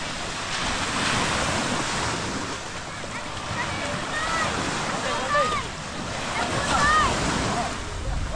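Ocean waves washing and surging nearby, a continuous rushing roar with wind noise; faint voices can be heard in the background.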